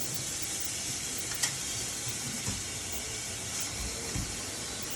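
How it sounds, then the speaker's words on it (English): Running water rinsing an air fryer tray, a continuous close hiss and splash with a few small knocks as the tray shifts under the stream. "Rinse the tray because so that's my mother, guys."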